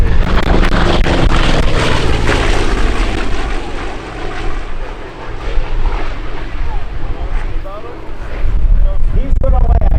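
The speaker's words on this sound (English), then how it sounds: "He's going to land, but taking off right now the C-47." At an air show, a C-47 transport plane takes off with a loud, continuous propeller and engine roar that stays strong throughout, while a voice talks over it.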